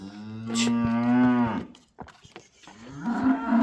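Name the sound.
cows mooing at a cattle market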